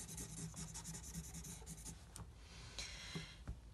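Marker or pen rubbing across a board while a sun is drawn in a school science lesson on the seasons: faint, continuous close scratchy strokes with short repeated scribbles, no talking.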